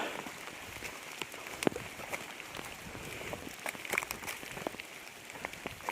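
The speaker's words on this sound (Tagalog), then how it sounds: "Nabutan na kami ng ulan. Dito sa bundok." Light drizzle falls on a mountainside, a steady soft hiss scattered with many small patters and drips, fairly faint and continuous throughout with no voices.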